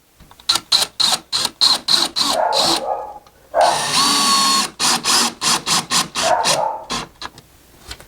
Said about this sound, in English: And we're going to come in here, and we're going to put a screw.